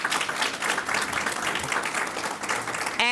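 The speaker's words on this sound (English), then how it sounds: "Please give them a round of applause." A crowd applauds steadily at a public event announcing a health and university alliance in Kentucky, a dense, loud clapping wash that holds throughout before a voice starts right at the end.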